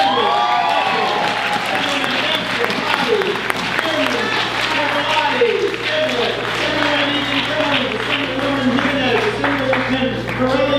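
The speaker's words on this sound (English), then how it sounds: "Keanu, you can clap for all of them." Audience applause and some cheering at a governor's bill-signing ceremony for a $15 minimum wage, continuous and fairly loud, with voices and crowd chatter mixed in throughout.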